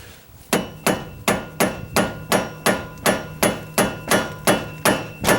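Hammer driving splined strut bolts out of a 2004 Pontiac Grand Am's strut assembly: a steady series of about thirteen loud, sharp metallic blows at an even rhythm, close up with no talk.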